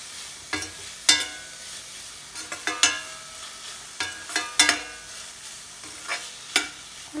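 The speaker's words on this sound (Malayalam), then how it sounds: "ഇത് മിക്സ് ചെയ്ത് കൊടുക്കാം. നൂഡിൽസിന്റെ കൂടെയുള്ള പൗഡറും നമുക്ക് ആഡ് ചെയ്ത് കൊടുക്കാവുന്നതാണ്." Noodles tossed with their seasoning powder in a pan give repeated sharp scraping and clattering stirs, spaced irregularly over a faint steady sizzle, with no talking.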